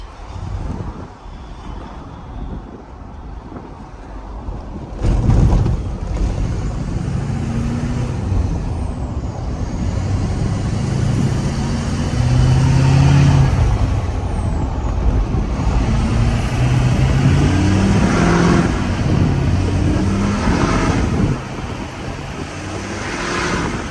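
An LBZ Duramax diesel pickup fitted with a WCFab intake kit and hotside pipe, its throttle lightly feathered: a steady, close, deep engine rumble with a faint rising whistle over it, running throughout with no talk.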